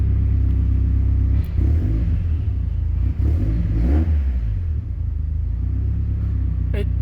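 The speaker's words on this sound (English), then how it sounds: "there it is running with, well, while the car is running" A cold Mazda MX-5 engine idles up close, running rich with a steady, deep low rumble and slight uneven pulsing, heard alone without talk.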